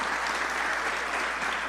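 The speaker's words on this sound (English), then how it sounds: "big round of applause for our opening panel" Steady audience applause at a real estate market panel event in Queens, a dense, even wash of clapping throughout the short stretch.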